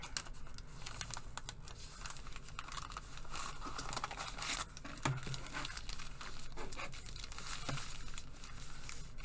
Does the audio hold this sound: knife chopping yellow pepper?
no